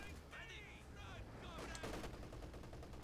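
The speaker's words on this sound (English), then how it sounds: "We've got an MG34 on the west side here." Bursts of MG34 machine gun fire in the World War II strategy game Company of Heroes 2, rattling amid layered battlefield gunfire and effects at moderate, steady loudness.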